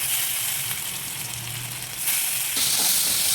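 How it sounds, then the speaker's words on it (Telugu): Curry leaves sizzle and crackle as they drop into a hot pan of curry with meal maker, a steady bright frying hiss that swells louder partway through, with no talking. "ఇది కరివేపాకు వేసుకుంటున్నానండి"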